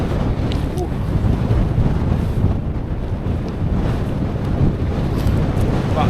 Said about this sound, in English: It's got windy.